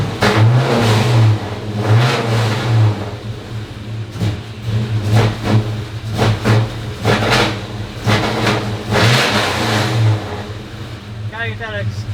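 Truck engine revved repeatedly to prime the secondary accelerator pump, throaty rises and falls in a rough pulsing rhythm, close and loud, with someone talking over it.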